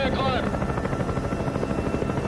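Helicopter rotor from the 1990 film The Hunt for Red October, a loud steady rhythmic chopping throughout, with faint voices mixed in.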